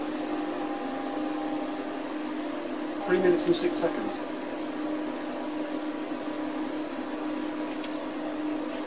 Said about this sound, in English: Kettle number 1, still going, but that's hardly surprising.